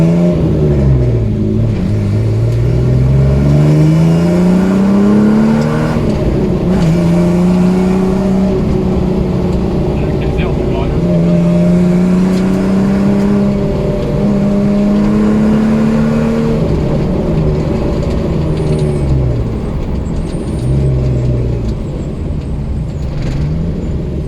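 Ford Sierra XR4i V6 rally car engine revving and accelerating through the gears, a loud continuous roar with rising and falling pitch as it shifts, heard from close inside the car.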